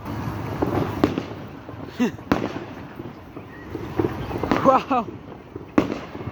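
Fireworks on bonfire night, with sharp bangs and crackling bursts at irregular intervals over a steady background hiss, while people nearby talk and exclaim.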